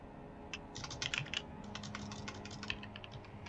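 Typing on a computer keyboard, quick clusters of light clicking keystrokes, close and soft, over a low background hum.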